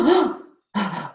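Two demonstrated stressed breaths during a pranayama yoga lesson, a sharp audible inhale followed after a short pause by a forceful exhale, close and clear with no talking.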